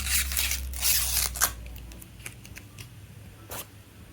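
Soft crinkling and scratchy peeling as protective film is pulled off a flexible Ringke Fusion camo phone case for an iPhone 13 Pro, quiet and close, with a few brief ticks afterward.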